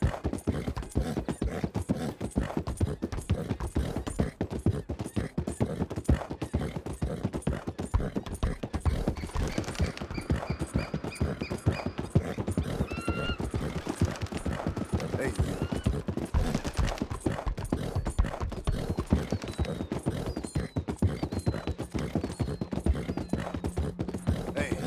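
Horse hooves clip-clopping at a steady walking rhythm in Red Dead Redemption 2, close and continuous for the whole stretch, with occasional mechanical clanks and game sounds layered over it.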